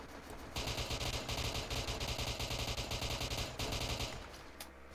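Rapid automatic gunfire in the Roblox game ER:LC during a bank scenario, loud sustained bursts that pause briefly between volleys, with no voices over it.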